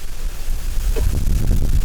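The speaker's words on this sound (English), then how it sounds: "That's gnar wind." Strong wind blows in a loud, low, rumbling roar that buffets and swells in gusts, with no talking.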